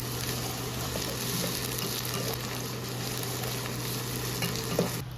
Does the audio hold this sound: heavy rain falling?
no